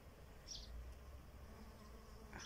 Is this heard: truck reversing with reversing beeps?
no